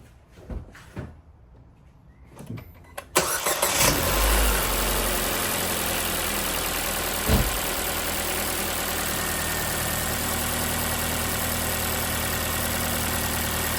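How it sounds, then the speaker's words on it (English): A Ford Fiesta 1.25 petrol engine, freshly fitted with a new rocker cover gasket and spark plugs, cranks after a few clicks, catches with a loud rev, then settles into a steady, even idle close by. "So let's get the car going."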